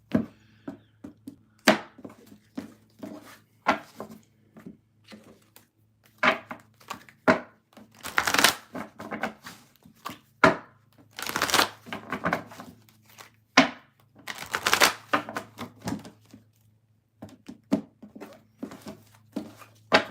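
Tarot cards shuffled by hand, irregular bursts of crisp riffling and slapping with brief pauses between bursts, close and fairly loud, no talking.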